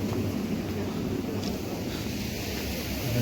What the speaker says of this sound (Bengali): থেকে খুব জোরে জলটা পড়ছে, আওয়াজটা জাস্ট।